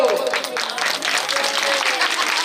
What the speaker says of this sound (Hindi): देवता लोग कीर्तन कर रहे, ताली बजा लो।